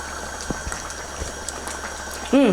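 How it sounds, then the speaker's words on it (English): Chicken stew in a pot returning to a boil gives a steady low bubbling hiss with small scattered pops, close by, ending with a short voice-like sound. "I'm turning up the heat to bring it back to a boil."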